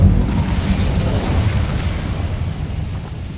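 An Incendio fire spell effect bursts out as a loud, roaring whoosh of flame that rushes at full strength and slowly thins away.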